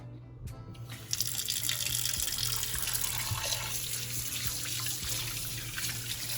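Running tap water pours steadily over saltfish being rinsed under a kitchen faucet for a Jamaican ackee and saltfish dish, starting after a short pause and continuing close and even, with faint dripping at the start.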